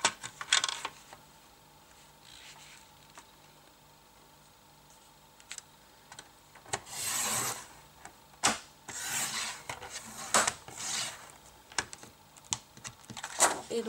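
The sliding blade of a paper trimmer cuts card in a few short, scraping strokes, each a soft rasp, separated by quieter handling and rustling.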